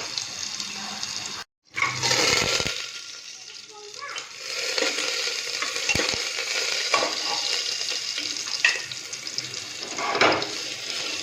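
Onion and garlic tempering in hot oil for dalma, a steady broadband sizzle with stirring clatter and a brief gap near the start, running throughout at moderate level.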